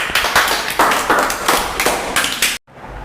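An audience at a student prize distribution event claps steadily for a few seconds, near and lively, with rhythmic swells before stopping abruptly.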